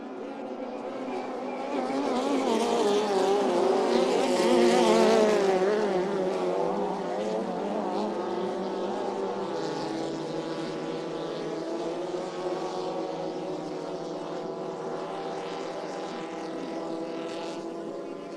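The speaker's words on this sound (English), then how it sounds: "As we fire down the front straight away, the throttles go to the floor" Race cars accelerate hard down the front straight of a circuit at Melton, their engine roar swelling loudly and then settling into a sustained high drone as they pass, with faint commentary underneath.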